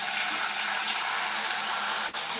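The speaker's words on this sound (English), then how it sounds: "Okay, so now I'm going to go in with this stronger water pressure." Strong water spray rinsing hair, a loud, steady broadband hiss of pressurized water running continuously, with a brief interruption near the end.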